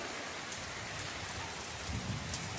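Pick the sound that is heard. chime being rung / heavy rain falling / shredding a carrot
heavy rain falling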